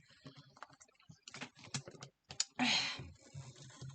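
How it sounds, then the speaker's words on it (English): Fingers type on a computer keyboard in quick, irregular bursts of soft clicks, with a brief pause and then a louder flurry of keystrokes close by. "typing the word crybaby into the script"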